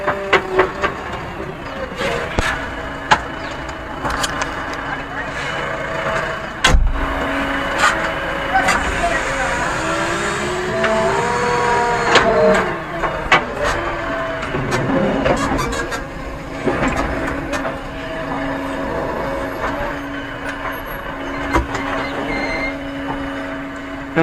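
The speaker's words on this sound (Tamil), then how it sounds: "இனிமேல் டிராக்டர் போனால் டிராக்டர் பின்னாடியே நம்மளும் போயிடலாங்க." While a neem tree is being transplanted, a JCB 3DX Eco Xpert backhoe loader and a tractor run with a steady diesel drone, punctuated by metallic clanks and bangs, as people talk over the machinery.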